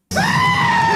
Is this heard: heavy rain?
no